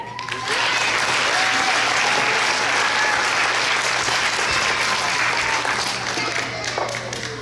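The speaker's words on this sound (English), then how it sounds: "Let's give this section a round of applause." An audience at a school board meeting breaks into sustained applause, dense steady clapping that starts after a brief quiet and holds at full strength to the end, with no talk over it.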